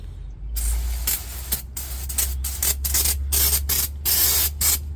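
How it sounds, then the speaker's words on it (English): Brake cleaner aerosol sprayed continuously in close, loud hissing bursts while cleaning up a JLG 450AJ boom lift, a low equipment hum running underneath. "Cleaned up all the mess with Darren's favorite, brake clean."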